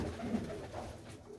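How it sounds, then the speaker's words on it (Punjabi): Pigeons cooing in a loft, a soft, low, throaty coo that rolls on briefly and steadily at close range. "ਬਹੁਤ ਹੀ ਵਧੀਆ ਵਧੀਆ ਸ਼ਾਨਦਾਰ ਕਬੂਤਰ।"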